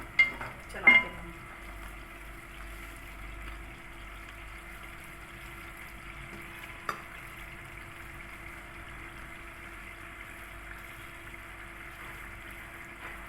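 Kofta gravy in a pot is stirred, giving a couple of scraping knocks at the start and a single clink later over a faint, steady simmer, with no voices.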